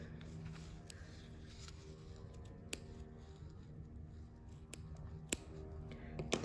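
Scissors cut through knitted fabric along a steek: quiet, soft snipping with a few sharp clicks of the blades closing, close by in a still room.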